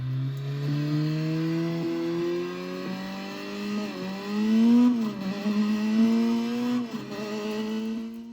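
Coupe car driving in the racing video game Burnout Legends, its engine a steady harmonic drone that rises and falls with throttle changes, loud and continuous, without talk.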